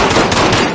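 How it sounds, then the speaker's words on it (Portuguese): Automatic gunfire in the video game Warzone crackles in a quick, loud, dense burst of rapid shots lasting under a second, heard up close. "Eu tô atirando em mim."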